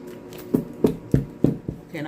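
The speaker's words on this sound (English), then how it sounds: "one more shuffle" Tarot cards being shuffled by hand in a quick run of about five soft, papery riffling taps, close and distinct, with a voice speaking around them.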